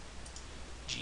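One soft, quick computer mouse click comes near the end, faint against a quiet hiss.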